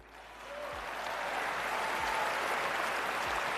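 Applause at a political meeting after an interior minister's anti-veil speech, a dense, even wash of crowd clapping that swells in over the first second and holds steady, with no talk.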